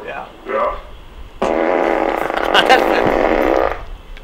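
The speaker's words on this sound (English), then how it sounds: "everybody likes a fart" A long, loud, buzzing fart sound lasts a few seconds after brief vocal sounds, dropping off abruptly at the end.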